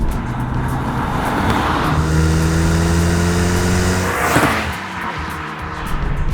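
A Mitsubishi Lancer Evolution's 280-horsepower engine drones loudly as it accelerates hard along a road, rising through the revs before a gear change and pulling again.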